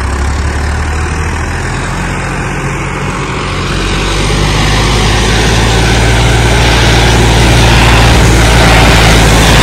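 Tractor engine with a 15 hp upgrade running loud and close, a heavy low drone whose tone shifts as the revs drop under load.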